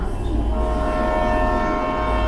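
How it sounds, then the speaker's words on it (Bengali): A train whistle holds a steady, sustained tone over the low rumble of a moving train, loud and close throughout. "হুইসেল দিয়ে ট্রেনটি ছেড়ে দিল।"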